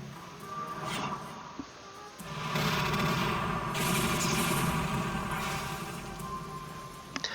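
Cannon fire in the strategy game Symphony of War: rapid bursts of booming shots layered over battle noise and game music, loud and continuous after a short quieter opening.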